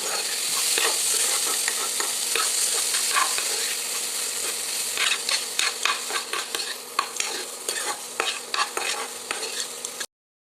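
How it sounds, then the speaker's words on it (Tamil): Chopped capsicum is sautéed in a hot pan for spring pasta, with a continuous sizzle and hiss under a string of quick spatula scrapes and clinks that grow busier toward the end, heard up close without any talking. "இப்போ இதையும் சேர்த்து நல்லா வதக்கிக்கலாம்"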